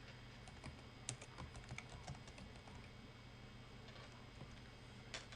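A message is typed on a computer keyboard as a quick, irregular patter of soft key clicks with a few harder taps, heard close and faint in a quiet room.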